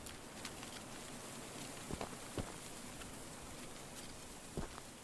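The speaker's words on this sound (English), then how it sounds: "I think this is supposed to be the sound of rain." Steady rain hisses faintly in the video game Choo Choo Charles, broken by a few scattered soft taps and drops.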